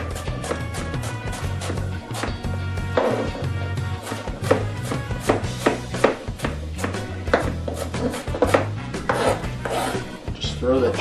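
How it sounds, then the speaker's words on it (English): Onion chopped on a cutting board for baked pork chops, a steady run of sharp, close knife taps with slight irregular rhythm and no talking. "I'm just going to chop this onion up."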